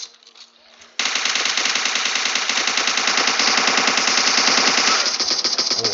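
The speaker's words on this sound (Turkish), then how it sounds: "Şu an görmeden sıkıyorum ben." In PUBG Mobile, long bursts of rapid automatic gunfire rattle loud and close almost without pause for several seconds after a brief quiet start.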